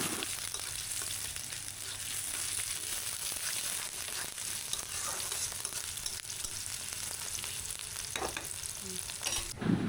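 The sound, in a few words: garlic frying while being stirred until brown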